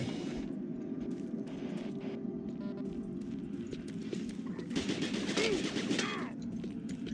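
Enemy gunfire in DOOM 3 in the Alpha Labs sector: a dense, rattling run of shots over a steady background that grows loudest partway through, then tapers off.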